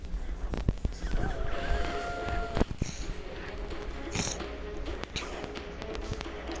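A horse whinnies in the WildCraft video game, a fairly faint neigh with scattered clip-clop and tapping game effects around it.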